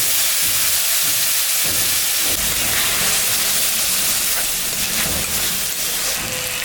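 Ginger, cumin and dried and green chili paste sizzles loudly in hot oil, a dense, steady hiss with rough crackling throughout, close and unbroken.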